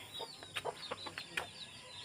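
A fighting rooster gives a few short, soft clucks and chuckling calls, spaced irregularly over quiet background noise.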